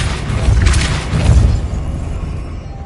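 Depulso force spell cast in Hogwarts Legacy on PS5, a loud booming blast with a short burst at the start and a second surge a moment later, then a fading rumble.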